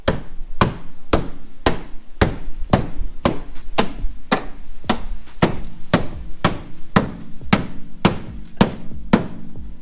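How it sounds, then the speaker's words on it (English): Steady, evenly spaced hammer blows on car body metal of a 1997 Honda Civic hatchback, sharp and close, repeating at a regular rhythm throughout with no talking. "all of these pieces here, I'm going to want to hammer up just like this"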